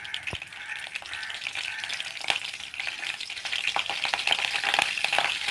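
Spices, curry leaves, dried chillies and rasam powder sauté in oil with a constant crackling sizzle, punctuated by scraping stirs and light rattles of the pan. The sound grows a little busier toward the end, close by, with no voices.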